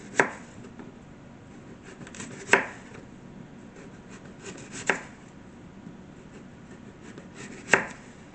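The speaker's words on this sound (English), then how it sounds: "So what I like to do is cut a little bit here, and a little bit there" Knife cutting potatoes into fries on a board, four sharp chops spaced a couple of seconds apart, close and clear against a quiet background.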